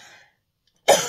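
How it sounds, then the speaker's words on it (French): A single close, sharp cough bursts out after a short silence, preceded by a faint trailing sound. "j'ai bien toussé, ça va"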